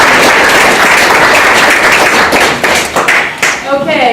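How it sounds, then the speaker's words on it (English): A volunteer appreciation crowd in Highland Park, New Jersey claps together in a dense, loud burst of applause lasting several seconds, close and steady before thinning slightly toward the end. "let's all give ourselves a round of applause for all the work."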